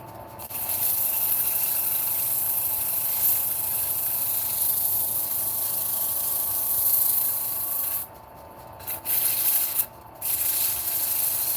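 Sanding on a wood lathe, a continuous dense abrasive rubbing hiss that runs steadily and loud, dropping out briefly twice near the end before resuming.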